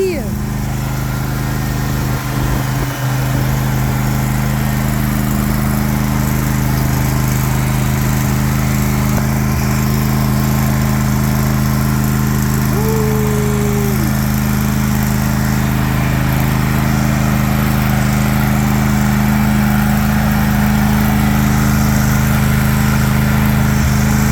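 A lawn tractor used for cutting grass runs with a loud, steady engine drone that holds unchanged from start to finish, close by.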